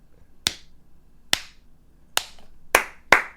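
Five separate hand claps from one person, sharp and close, evenly spaced at first and then quickening toward the end, with no talk over them.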